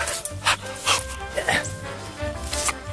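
A 13-year-old dog gives a series of short barks and yips, close and fairly loud, in irregular bursts over about three seconds.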